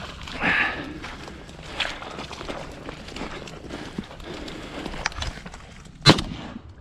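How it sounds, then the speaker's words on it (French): A shotgun shot rings out during a September goose hunt in Minnesota, a single sharp loud blast near the end, after scattered quieter outdoor rustling and thumps with no talk. "pourtant j'ai vu le coup de fusil dedans"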